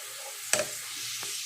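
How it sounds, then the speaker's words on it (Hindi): Onions frying in hot oil give a steady soft sizzle throughout, with a couple of brief clinks as the pan is stirred. "ऑयल गर्म हो गया, अब इसमें मैं प्याज ऐड कर दूँगी और इसको हल्का सा ब्राउन करेंगे"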